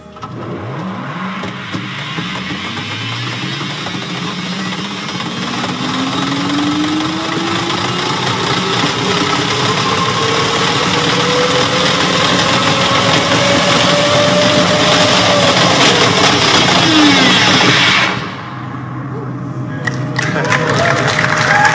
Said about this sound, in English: So that was a video of a test pod ride that we did in the Hyperloop tunnel.